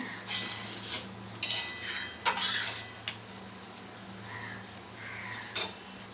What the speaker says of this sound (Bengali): আরও লেড়ে দেবো দেখুন সব সিদ্ধ হয়ে গেছে লাউটা সিদ্ধ হয়ে গেছে